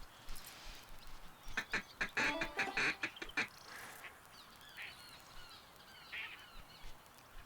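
Ducks quack in the Duck Dynasty hunting video game, a burst of several loud raspy calls in quick succession followed by softer scattered quacks over quiet background.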